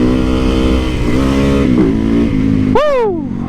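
A KTM RC8 superbike's engine drones loud and close, then blips in a sharp rev that rises and quickly falls away, followed by a fading tail of the engine.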